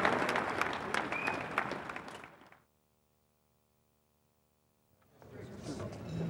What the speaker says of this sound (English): Big round of applause for Tex.